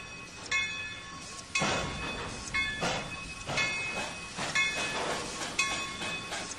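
A locomotive in the Trainz 2019 railway simulator rolls forward on the C&O Hinton route, with rhythmic rail clatter and periodic hissing bursts repeating about once a second, moderately quiet and without talk.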